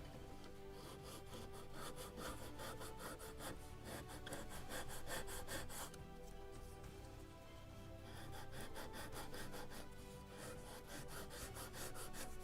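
Hand sanding of a wooden deck piece for a model of the 1776 gunboat Philadelphia, a close, rapid back-and-forth rasping stroke repeated steadily, with one brief pause partway through.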